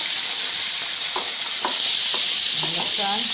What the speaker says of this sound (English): I'm putting in the codfish in the pot. It will be fry a little.